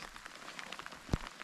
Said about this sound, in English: It's just been raining for about the past mile now.